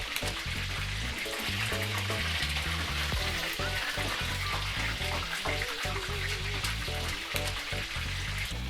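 Steady, dense sizzling and crackling of Eskişehir-style çiğ börek frying in hot oil, continuous and close, with no voices.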